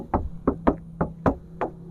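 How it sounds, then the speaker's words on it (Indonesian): Six sharp knocks tapped on the metal door panel of a 2012 Suzuki Ertiga GX 1.4 in an uneven rhythm, close and clear, with a faint hum underneath. "untuk bagian pintu kita ketokin nih"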